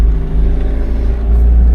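A Toyota Dyna 2.8L diesel truck crawling in four-wheel low first gear gives a steady, close, low engine rumble and drone with no rise in revs, slightly louder near the end.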